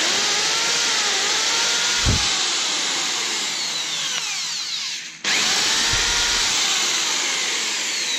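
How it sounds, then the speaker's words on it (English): A large power drill from scrap e-waste runs loud and continuous, briefly dipping and cutting out before spinning back up. "let's see if this big drill works."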